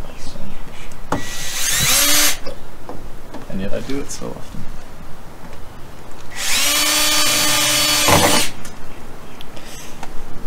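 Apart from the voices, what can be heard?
power drill driving tech screws into car doors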